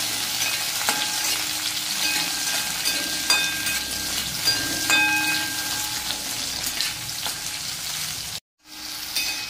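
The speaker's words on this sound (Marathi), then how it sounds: "हे बघा असं कांदा थोडासा लालसर करून घेतलाय। हे 1 टोमॅटो पण याच्यात टाकून देऊ।" Onion and tomato frying in oil in a kadhai for a capsicum dish, a steady close sizzle with occasional clinks of a stirring spoon against the pan and no talking.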